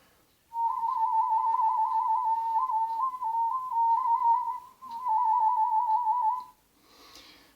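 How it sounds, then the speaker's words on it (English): A steady, close pucker whistle with a rapid warbling wobble in pitch, held for several seconds with a brief break midway. "This variation is called warbling and it sounds like this."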